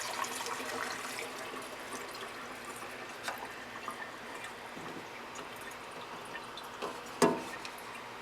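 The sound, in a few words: Bestine solvent poured through a funnel back into the can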